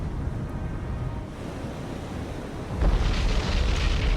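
Ship magazine explosion in the naval video game War on the Sea: a rushing wind-like background gives way to a sudden, loud, broad blast that keeps roaring to the end.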